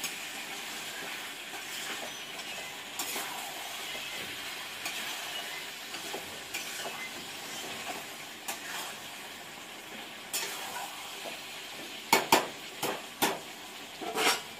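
Chicken with Punjabi-style masala cooks slowly in a covered pan over a low flame with no added water, giving a faint, steady sizzle, then a handful of louder clicks and knocks near the end.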